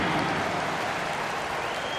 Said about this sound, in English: And a big round of applause for your dance team.